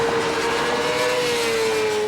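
Two street bikes speed along Interstate 95 in a loud, steady engine drone with a sustained whining tone that sinks slightly in pitch, with constant road and wind rush underneath.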